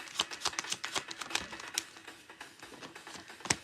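Tarot cards shuffled by hand, a rapid run of crisp papery riffles and flicks that thin out, then one sharp final snap, close and fairly quiet.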